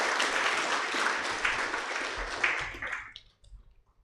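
Applause from an audience at a formal Bar-Bench legal forum honoring a chief justice, a steady wash of many hands clapping that thins out and fades to a few scattered claps at the end.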